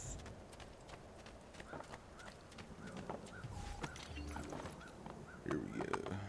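Horse hooves clip-clop in a steady run through the Assassin's Creed 2 game world, fairly faint and mixed with soft ambient noise, with someone talking over parts of it.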